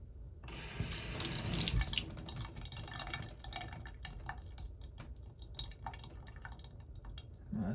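Tap water gushes loudly onto a rock slab for a couple of seconds, then slows to scattered drips and trickles as the stone stays wet, close and alone.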